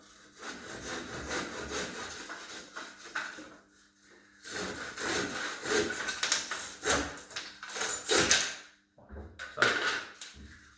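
Sharp hand saws cut through wooden laths in rough back-and-forth strokes, close and steady, pausing briefly between bursts.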